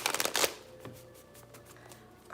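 A short rustling burst of tarot cards being shuffled up close, then fainter flicks trailing off into quiet.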